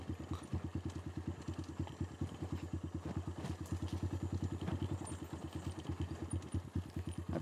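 A motorcycle engine thumps in a steady, fast rhythm of low pulses, running close and fairly loud throughout with no talk, on a motocamping ride from Labrador to Infanta, Pangasinan.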